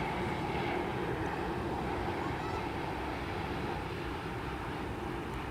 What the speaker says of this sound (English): What a nice looking plane.